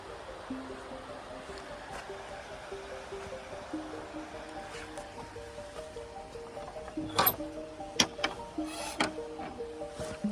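The River Wharfe in the Yorkshire Dales rushes steadily in the background, with a few faint clicks and knocks toward the end.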